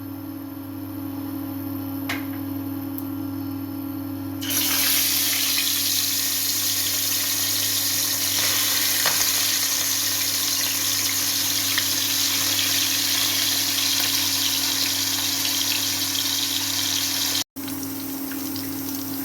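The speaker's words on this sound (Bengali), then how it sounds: "তেল গরম হয়ে গেছে এখন আস্তে আস্তে মাছগুলো তেলে দিয়ে ভেজে নেবো" A constant hiss and crackle of frying in hot oil runs throughout, with a steady low hum underneath and a brief cut near the end.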